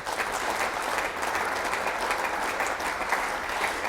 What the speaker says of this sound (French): est-ce qu'on peut acclamer pour les dieux de l'Arche de l'Alliance?